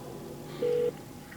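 A single short dialing tone beeps through the hands-free system of a 2014 Ford Focus, a brief steady electronic note over low cabin hum.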